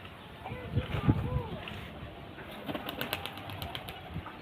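Giribaz pigeons being released at a pigeon sale flap their wings in a few soft bursts, faint and fairly close, while people talk quietly in the background.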